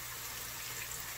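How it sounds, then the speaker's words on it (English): Water poured from a kettle into a pan of braised tilapia to loosen the gravy, a steady broadband trickle running for about a second with no talk. "Some more water from my kettle."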